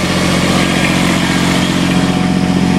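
A diesel engine runs steadily nearby, its loud continuous rumble with a faint mechanical throb holding even for the whole stretch, no voices over it.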